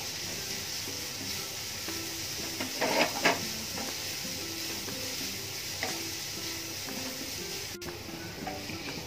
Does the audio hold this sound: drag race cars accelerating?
no